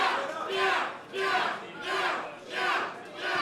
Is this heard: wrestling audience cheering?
yes